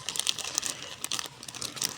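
Paper seed packets crinkle and rustle as they are handled up close, a quick irregular run of soft crackling and crumpling.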